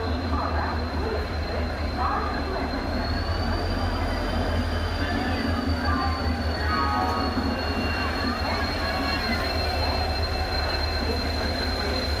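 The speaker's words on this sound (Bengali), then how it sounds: "আর এতক্ষণে আমাদের ট্রেন ঢুকলো সবেমাত্র" The 22861 Ispat Express rumbles steadily into the station with a sustained high-pitched wheel squeal, while people talk faintly nearby.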